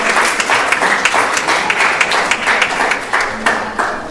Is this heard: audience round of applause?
yes